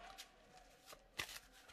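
Tarot cards are drawn and handled in short papery swishes and flicks, quiet and close, with one sharper snap partway through and no talking.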